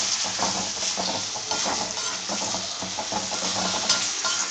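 Tomatoes cooking for a cashew chicken curry, sizzling steadily in a pan while a utensil stirs and scrapes against the metal again and again, close and busy, with no voices.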